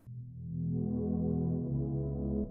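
Sustained strings filtered down to their mid, mono-only content in a FabFilter Pro-Q3 equalizer, a held chord swelling in and ringing on with a change partway through, moderately quiet and alone.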